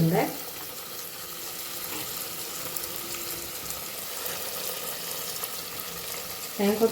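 Potatoes and masala for a beef curry cook in a pan with a low, steady frying sizzle throughout, briefly broken by stirring or clatter at the start and end.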